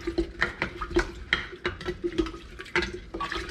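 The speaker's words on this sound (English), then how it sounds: "1 cup of sugar. Add that in there. I'm gonna give it a big stir." A cup of sugar is stirred into a homemade vinegar mixture, with a spoon clinking and swishing through the liquid in a quick, irregular rhythm, close and moderately quiet.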